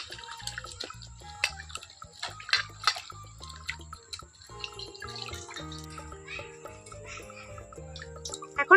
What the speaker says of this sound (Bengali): এখন আমি এই ধনে পাতাটা নিয়ে নিচ্ছি জলে পরিষ্কার করে নেবো